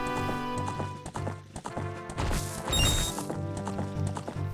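Horse hoofbeats from the Zelda Ocarina of Time video game clip-clop in a quick galloping rhythm over game music, loud and close throughout.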